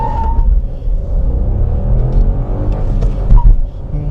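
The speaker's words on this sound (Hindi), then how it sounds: "लेकिन उससे पहले मैं देखना चाहता हूँ इसका एक्सेलरेशन कैसा है।" A Renault Duster with a 1.0 engine accelerates, its engine revving up loudly and steadily from inside the cabin, with a brief shift-like dip near the end.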